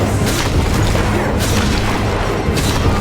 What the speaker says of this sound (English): Block attack and slam.